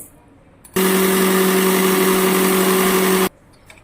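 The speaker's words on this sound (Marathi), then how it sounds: "आणि आपण हे मिक्सरला पावडर करून घ्यायचे" A small mixer grinder jar powders roasted coriander and cumin seeds, running as one loud, steady whirring grind for about two and a half seconds before cutting off abruptly, with quiet room sound before and after.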